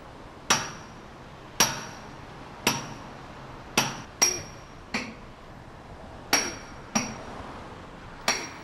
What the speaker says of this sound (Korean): (3kg의) 망치를 허공에 갈라 체결된 핀을 빼내는 일은 수십 년 베테랑에게도 결코 녹록지 않은 작업이다.